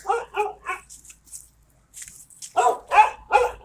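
A dog barks in short bursts, three quick barks, a pause, then a louder run of barks close by.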